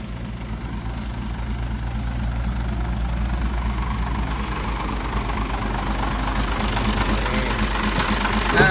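A SANY SY215c excavator engine runs loud and close while digging soil and loading trucks, a steady low diesel rumble with knocking pulses that slowly builds in intensity.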